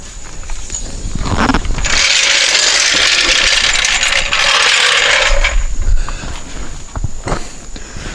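A car jack under a 2007 GMC Acadia ratchets down, a loud, close run of rapid metallic clicking for several seconds, then scattered knocks and handling sounds.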